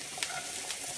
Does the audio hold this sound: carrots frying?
yes